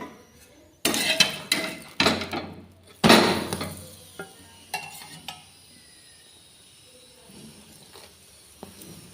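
Puran poli cooking on a hot pan, with a few loud clanks and scrapes of utensils early on, then a soft, intermittent sizzle and light taps fading toward quiet, with no voices.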